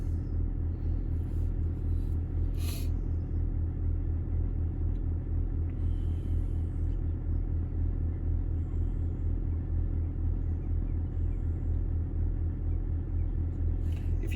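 Air suspension compressor on a Range Rover L322 running steadily, a constant low droning hum with heavy rumble that holds level throughout, with a few faint higher clicks over it.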